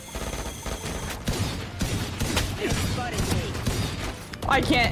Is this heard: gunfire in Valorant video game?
yes